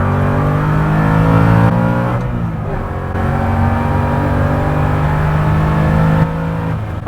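A Revology 1968 Mustang Fastback Cobra Jet accelerating hard on the track at Circuit Florida, its engine roaring loudly and continuously with rising tone and gear changes, close up, with no talk.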